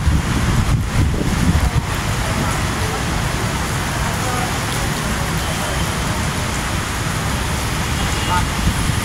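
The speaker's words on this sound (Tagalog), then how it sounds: "Sobrang lakas ng hangin." Strong wind roars and buffets the microphone amid a constant wash of heavy rain in BGC, Taguig, Philippines, loud and continuous.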